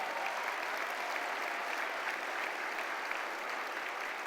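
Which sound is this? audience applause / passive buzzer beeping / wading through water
audience applause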